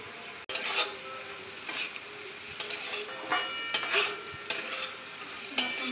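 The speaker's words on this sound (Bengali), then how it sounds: "এবার আমি অল্প অল্প করে ভাতটা দিয়ে দিলাম" Cooked rice is added bit by bit to a hot pan with sugar and stir-fried for fried rice: a soft sizzle broken by repeated scraping strokes of a spatula against the pan, close and without talk.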